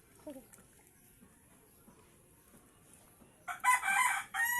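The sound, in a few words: duck crying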